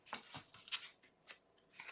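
A deck of cards being shuffled at close range, a few quick papery riffles and flicks in short bursts, faint and alone with no talking.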